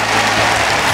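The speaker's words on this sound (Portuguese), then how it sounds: "agora nós queremos aplaudir o Senhor com muita alegria" Loud, dense applause from a congregation at a Pentecost church service, a continuous wash of clapping close by with no voices over it.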